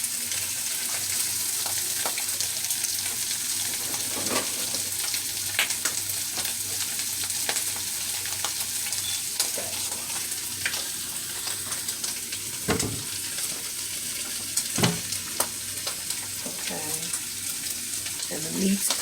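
Lamb and vegetables frying in a pan, a steady close sizzle with scattered pops and occasional stirring scrapes, continuing throughout at moderate level.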